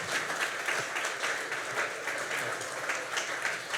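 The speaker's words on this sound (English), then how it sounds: "So please give a warm round of applause to this party animal, Keith." A crowd at a Fuckup Nights storytelling event in Toronto applauds a speaker. The steady, even clapping holds at a constant level throughout, with no voices over it.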